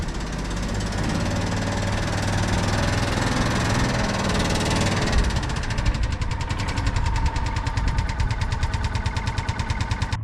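A 1997 John Deere Gator utility vehicle runs close by, a loud steady engine drone that turns into a rapid rhythmic chugging pulse partway through, with no talk.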